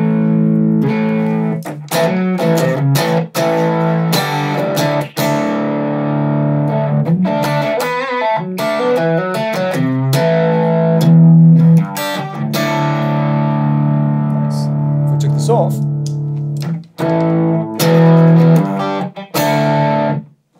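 An electric guitar runs through a distortion pedal on a pedalboard, playing loud, thick, saturated chords and riffs with sustained notes and short gaps between phrases, steady and upfront with no voices.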